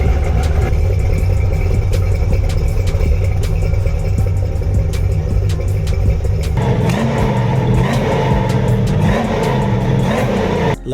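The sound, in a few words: Banshee car engine running and idling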